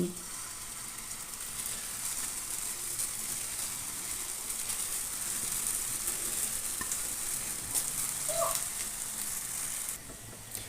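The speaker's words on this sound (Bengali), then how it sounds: "আমার পান্তুয়াগুলো ভাজা হয়ে গেছে। আমি এখন এগুলি তুলে নিচ্ছি।" Sweet potato pantua sweets fry in hot oil with a steady, even sizzle and crackle that holds for the whole stretch, fairly soft and close, with no one talking.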